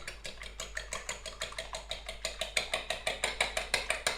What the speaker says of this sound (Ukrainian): Сюди два яйця. І гарно взбиваємо.